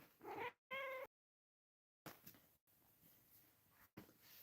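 A cat meows twice in a row, clear and close, then goes quiet. Faint room noise and soft bumps follow, and no one speaks.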